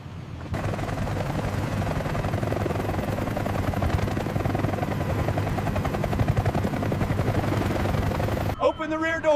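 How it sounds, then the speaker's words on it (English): A helicopter's rotor thumps loudly and continuously, dense and close, then cuts off abruptly near the end as a voice begins. "Watch the helicopter."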